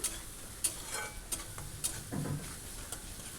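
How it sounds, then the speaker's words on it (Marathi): A ground garlic, coriander and onion masala sautéing in oil, giving light sizzling with a few sharp ticks and scrapes as a spoon stirs the pan. "छान असं व्यवस्थित तेलावरती परतून घ्यायचा आहे हा मसाला."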